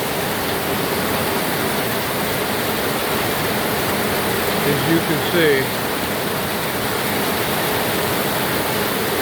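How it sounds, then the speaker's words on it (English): Heavy monsoon rain pours steadily in Inabanga, a dense, even roar with no letup, while someone speaks briefly over it midway. "Well, this is a good monsoon rain here."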